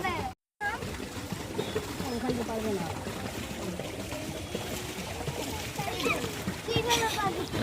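Water splashes and sloshes at a large lake where people are bathing, with irregular close splashes under constant talking and children's voices.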